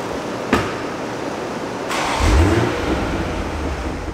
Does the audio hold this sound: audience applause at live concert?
no